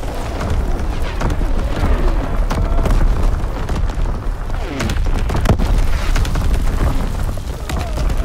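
Artillery barrage in Call of Duty WWII, a dense, loud, continuous rumble of heavy explosions with sharper booms breaking through, rolling on without pause.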